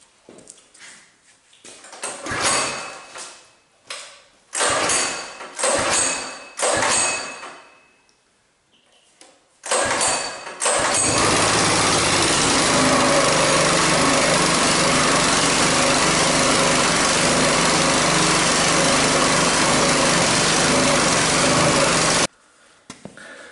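A hydraulic log splitter's small engine is cranked with several loud pulls that sputter and stop, then catches and runs steadily at a loud, rough, high-revving pitch for about ten seconds before cutting off abruptly.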